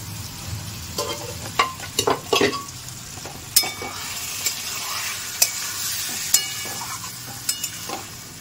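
Dal and soybeans stirred in a hot pan, with a steady sizzle under repeated scraping and knocking strokes of a spoon against the pan.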